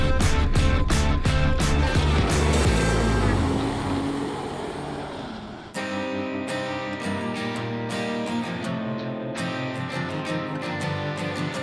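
A black GAZ-24 Volga car running, a loud steady engine drone that shifts in tone midway, with a rhythmic ticking pattern layered over the continuous hum.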